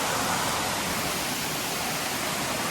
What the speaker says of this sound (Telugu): చాలా క్లోజ్ నుండి వాటర్ ఫాల్ చూపిస్తాను చూడండి.